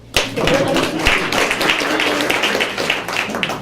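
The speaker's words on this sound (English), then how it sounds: "yeah, we can clap" Audience clapping at a Solarize 101 solar energy presentation, a burst of dense applause from a seated crowd lasting a few seconds, mixed with voices and room noise.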